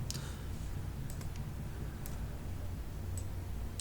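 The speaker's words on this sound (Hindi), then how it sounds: "इस पर हम क्लिक करते हैं" Sparse computer mouse clicks while working in CorelDraw X8, a few sharp, faint, close ticks scattered over a steady low background hum.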